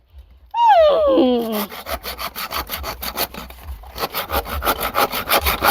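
A hand saw cuts through wood in steady back-and-forth strokes, close and rhythmic, after a brief whining squeal at the start.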